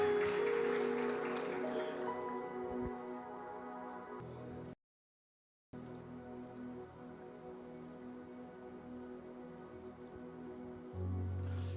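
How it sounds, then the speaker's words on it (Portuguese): Church congregation applauding during a service, a soft wash of clapping under sustained music tones, cut by a brief silent gap, then resuming with organ-like chords. "toda a igreja diz: aplauda o Senhor"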